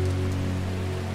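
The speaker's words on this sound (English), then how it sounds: "Does it ever stop raining in Undermere?" Steady rain falls in the video game Strange Horticulture, a constant wash of drizzle over a low hum with no other sounds.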